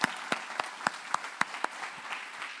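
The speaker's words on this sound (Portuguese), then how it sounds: "Você pode aplaudir o Senhor" A church congregation applauds in scattered, sparse claps, a handful of sharp, fairly quiet hits spread unevenly through a quiet room.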